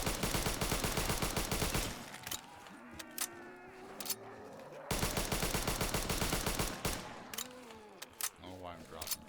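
Rapid bursts of gunfire from a custom zombies map video game, firing in fast repeated volleys with short pauses between them, loud and close, with shuffling game sounds in the gaps.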